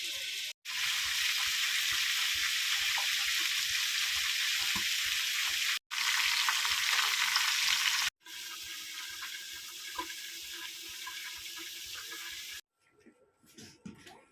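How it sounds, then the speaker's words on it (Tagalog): Onions, eggplant and egg fry in a pan with a loud, steady hiss and sizzle broken by brief cut-offs, then fall quiet at the end while a voice speaks softly. "Saka ito is i-fried natin para masarap."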